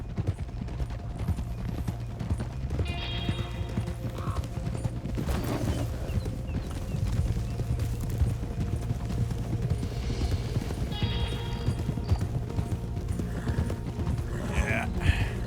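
Horses clip-clop in Red Dead Redemption 2: a steady, fairly close run of hoofbeats over a low ambient drone. Faint voices and an occasional whinny sit in the background.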